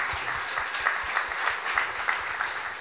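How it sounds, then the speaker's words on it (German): Live audience applause at a German conversation event on art and attitude, a steady dense wash of clapping hands filling the room throughout, with individual claps popping out rhythmically, no speech over it. "Also macht gerne mal einmal Applaus für euch selber."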